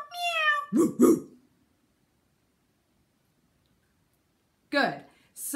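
A singing coach's voice imitates a cat with a few playful, drawn-out meows in a silly vocal warm-up, close and clear, separated by a pause of silence.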